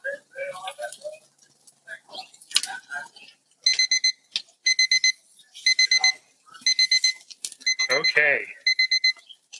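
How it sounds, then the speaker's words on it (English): A cooking timer goes off beside a Franklin BBQ offset smoker while prime rib cooks, giving repeated rapid bursts of high electronic beeping in a steady pattern. Brief speech and handling clatter come before the beeps, and a short word is spoken. "So timer's about ready to go off."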